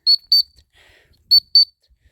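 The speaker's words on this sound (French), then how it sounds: "avec le rappel au sifflet dans le jardin qui mène aux gamelles" A pet whistle calls golden retriever puppies across a garden to their food bowls, four sharp high toots in two pairs, loud and close, with a brief faint chirp between them.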